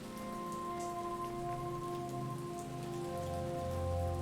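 Steady rain falls in a video game, a continuous even hiss of drops on surfaces with a low hum beneath, constant and fairly close throughout.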